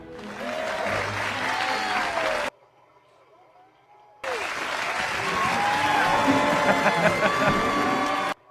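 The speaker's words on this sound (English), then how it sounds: "now they're all just applauding him" Audience applause from a television drama plays with cheering and talk mixed in, cutting to near silence for a couple of seconds before the clapping and voices resume loudly.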